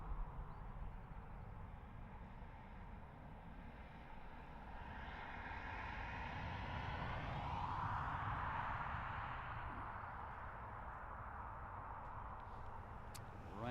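A Ryanair airliner at Dublin Airport rumbles steadily at a distance, a broad engine roar that swells a little toward the middle and then holds, with no voices over it.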